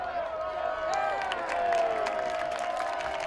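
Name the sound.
crowd applauding at women's soccer match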